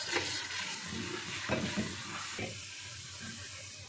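Minced keema frying in a pan with masala and a few spoons of yogurt, stirred with a spoon: steady sizzling and hissing with scraping stir strokes, close and moderately loud, no talking.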